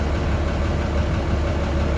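An overheating car engine slated for a top overhaul runs at a steady idle, a loud continuous low rumble with an even mechanical churn close by, no talking.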